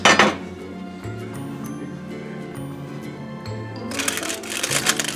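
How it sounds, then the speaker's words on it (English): A heavy Dutch oven lid clanks as it is lifted off the pot holding baked no-knead artisan bread, followed by quieter clinks and a rustling scrape as the loaf comes out, all over soft background music. "you're going to take your Dutch oven out of your oven. Remove the lid."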